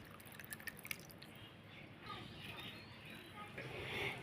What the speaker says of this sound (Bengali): এই যে একটা ছাঁকনি নিয়ে নিয়েছি এটার মধ্যে দিয়ে ভালোভাবে ছেঁকে নিচ্ছি